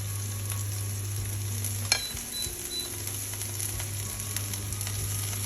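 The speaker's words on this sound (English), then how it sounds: "Now put the beef in too." Beef hits a hot pan for a stew with orange syrup, giving a steady crackling sizzle with a sharp clink of a utensil near the start and continuous frying hiss beneath a low steady hum.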